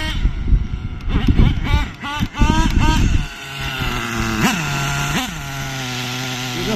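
Small nitro RC car engine revving during carburetor tuning: a buzzy, loud whine that rises and falls in quick bursts, then settles into a steadier idle with a couple of sharp blips, heard close up with no talk.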